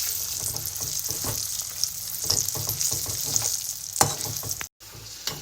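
Jujube (ber) pickle pieces with jaggery frying in plenty of oil in a wok, a steady close sizzle broken by scraping stirs, with a brief dropout near the end.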